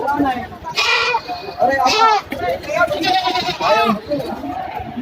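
Several goats bleat loudly and close by, with wavering cries overlapping people talking in the background.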